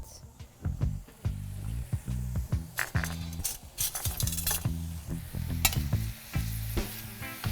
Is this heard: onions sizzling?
yes